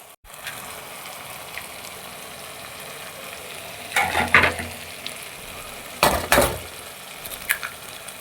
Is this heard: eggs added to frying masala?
yes